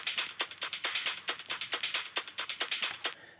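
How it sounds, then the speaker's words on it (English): Crisp cymbal and hi-hat hits in a quick breakbeat rhythm, about a dozen sharp bright strikes with short decays, heard alone. "are some breakbeat style cymbals, hi-hat hits"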